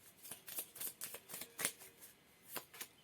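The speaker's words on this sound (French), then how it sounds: "Et là, on va tirer le besoin, la carte du besoin." Oracle cards drawn and handled at a table: a quick series of soft, close papery flicks and slides, about ten brief rustles in an uneven rhythm, faint and with no talking.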